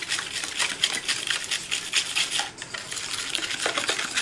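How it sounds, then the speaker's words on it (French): Venetian plaster mixed with gesso by spatula, a continuous close-up scraping and clicking with a quick, uneven rhythm, briefly pausing midway before resuming. "je mélange avec ma spatule"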